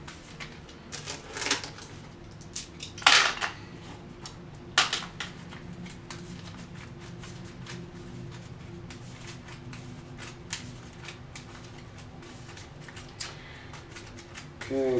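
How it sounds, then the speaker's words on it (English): Playing cards from an Arkham Horror card game deck shuffled by hand at close range, a soft continuous riffling patter with a few louder snaps early on. "Okay, that's enough shuffling,"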